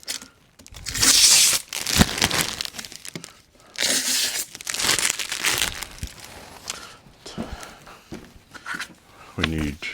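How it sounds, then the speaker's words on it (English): Protective plastic film being peeled and torn off a newly unboxed Bambu Lab AMS filament unit, giving loud bursts of crackly tearing and crinkling at close range, repeated several times with short pauses between. "Little ASMR sounds for those who like the sound of peeling plastic."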